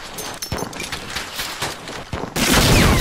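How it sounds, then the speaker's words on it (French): Grenades bursting in a Medal of Honor Allied Assault multiplayer match on a Southern France map: a dense run of cracking, popping blasts and gunfire, ending in a loud sustained roar. "Ouh, les grenades qui partent par là-bas."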